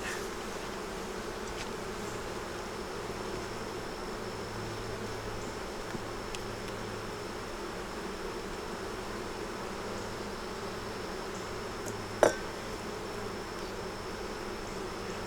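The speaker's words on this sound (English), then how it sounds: "These bees right here making a lot of noise." Honeybees buzz in a wooden hive box, a steady, fairly quiet drone that holds throughout, broken by a single sharp knock near the end.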